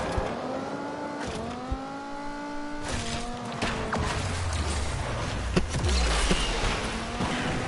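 An SRT V8 engine with eight cylinders, rated around 600 horsepower, revs in a racing video game, climbing and dropping through gear changes with harmonic whine, followed by heavier roaring and tire squeal toward the end.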